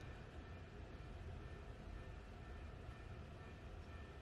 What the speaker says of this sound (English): Do you hear a train?